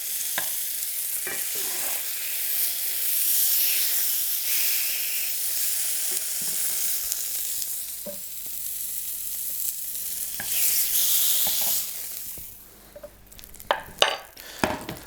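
Cold venison steaks sear in a hot pan with a steady, fairly loud broadband sizzle for most of the clip. It eases off near the end, when a few sharp clicks and clatters come through.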